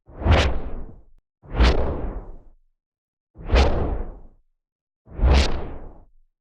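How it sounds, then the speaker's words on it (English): Four separate designed whooshes with filter modulation and dynamic processing, made for aggressive cold-weapon blade sound effects. Each is a loud, close sweep that rises sharply and then fades, evenly spaced with silence in between. "some whooshes with I think is some filter modulation and dynamic processing."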